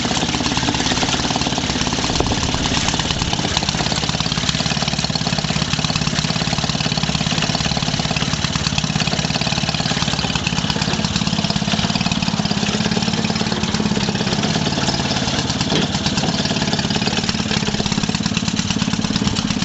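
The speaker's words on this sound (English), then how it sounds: "I like having the Maytag as a static engine." A 1946 Maytag 72D single-cylinder engine runs steadily while driving a 1927 Maytag washing machine, giving a loud, continuous rapid chugging with a rattling, knocking texture throughout and no talk.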